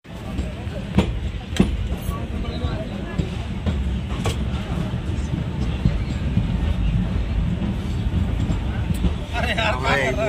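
Inside a moving train just after it leaves Etawah Junction, a steady rumble of wheels and carriage fills the background while people talk over it throughout.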